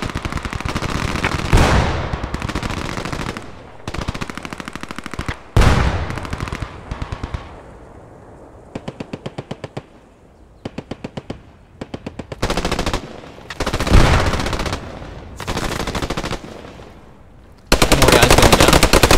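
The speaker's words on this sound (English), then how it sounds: "the machine gunner in the building you just saw shooting" Machine gun fire in the World War II shooter Post Scriptum, with repeated bursts of rapid automatic shots and single loud gunshots, some near and some distant, during a player assault and extraction.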